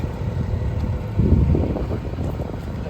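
A giant towable leaf vacuum, model 1901CE, hard-starting, runs with its engine and spinning parts producing a steady, rough, close-up droning rumble with a slight surge partway through.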